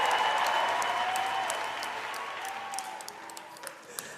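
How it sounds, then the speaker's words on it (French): At the opening gala of a music talent show, a large audience applauds loudly and steadily, then the clapping slowly thins and fades into scattered claps. "On applaudit très très très fort"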